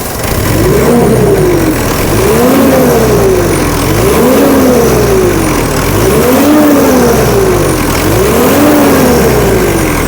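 A Mitsubishi Montero diesel engine with a newly replaced VGT turbo revs repeatedly, about five rising and falling pulls over a loud, steady idle, close and with no talking.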